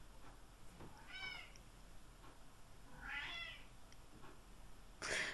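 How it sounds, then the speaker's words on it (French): A house cat meows twice, fairly close and clear, with a short rustle near the end in an otherwise quiet room. "Je suis désolée pour mon chat."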